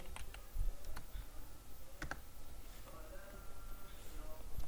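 Computer keyboard typing while searching on Google, giving scattered light clicks and taps at close range, mixed with faint background noise and no clear speech.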